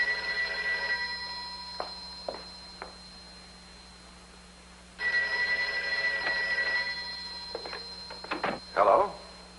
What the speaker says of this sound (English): Did I hear the phone ring?